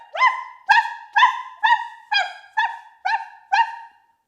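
A person imitates playful puppies during a family yoga session, giving eight evenly spaced, bright, close yapping woofs.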